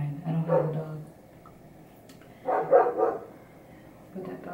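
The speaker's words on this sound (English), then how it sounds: "But that dog is interrupting the vlog." A nearby dog of unknown breed barks in two bursts indoors, with a short gap between them and another yelp at the very end.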